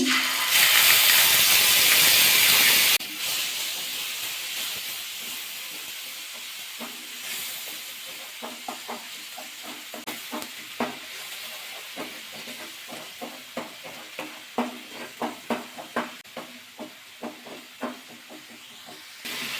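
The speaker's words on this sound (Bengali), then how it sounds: "পেঁয়াজ রসুনটা একটু হালকা ভাজা করে নিয়েছি" Onion and garlic paste tipped into hot oil left from frying fish bursts into a loud, close sizzle for a few seconds, then settles into quieter hissing with rapid popping crackles.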